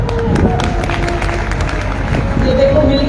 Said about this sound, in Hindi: लड्डू के लिए ताली बजाओ